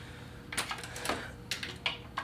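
A torque wrench set fairly low tightens an intake manifold on a VW MK5 FSI engine, giving about six sharp, close clicks at uneven intervals over quiet background hum.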